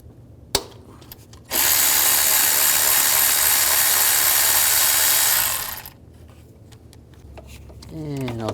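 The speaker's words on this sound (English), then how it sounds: "Now I'm going to use a 12mm socket. Take these bolts out." Power tool spinning a 12mm socket to remove intake manifold bolts on a 2003-13 Toyota Matrix, a sharp click, then one sustained whirring run of about four seconds that fades out, followed by quieter handling noises.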